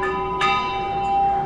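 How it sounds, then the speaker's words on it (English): A bell in Kathmandu, Nepal is rung once near the start, a bright clear strike whose metallic tone hangs and rings on steadily to the end. "they're ringing the bell again"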